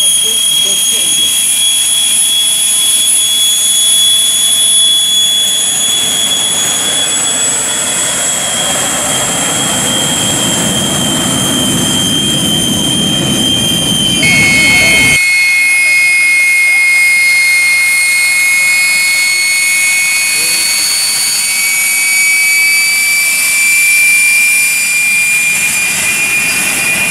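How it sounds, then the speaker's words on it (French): A Fouga Magister jet of the Patrouille Tranchant roars at the 2016 Saint-Brieuc air show, a loud, sustained whine and rumble that shifts in pitch midway as it passes close by, with people talking over it. "une fois que l'avion est passé devant nous, c'est moins stressant pour les oreilles"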